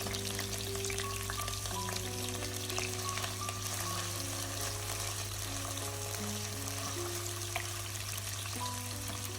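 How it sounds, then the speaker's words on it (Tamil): Pirandai (adamant creeper) stems fry in sesame oil with a steady, even sizzle and soft crackle, joined by a low constant hum in the background and no talking. "அதுக்குள்ளே இந்த பிரண்டத்தண்டை போட்டுட்டு கொஞ்சம் மதங்க விட்டுட்டு"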